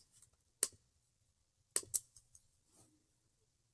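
Sharp computer mouse clicks, one alone and then a quick pair, dry and close in a quiet room while someone demonstrates a voting aid application.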